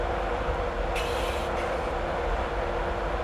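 A Class 91 electric train slowing to 40 mph as it crosses over the tracks onto the opposite line on the East Coast Main Line near Dunbar in Train Simulator 2016, with a steady loud rumble of wheels and a brief squeal partway through.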